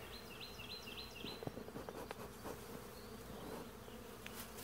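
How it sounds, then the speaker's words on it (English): Bees buzz steadily in a continuous droning hum around a hive, with a few brief higher chirps and faint knocks, and no one speaking. "Have to get these bees off of there though."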